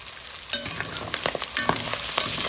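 Onion sweating in a hot pan, a close steady sizzle broken by sharp crackles and pops while it is stirred.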